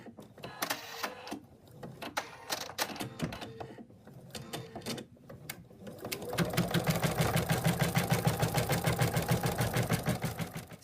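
An embroidery machine stitches a placement outline for a small in-the-hoop purse, starting with irregular short stitching bursts and then settling into a fast, steady, loud rhythmic needle chatter with a motor hum.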